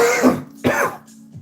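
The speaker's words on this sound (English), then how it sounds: "I have a bit of a cough" Two or three hoarse coughs close to the listener, the first pair back to back, a smaller one trailing after a pause.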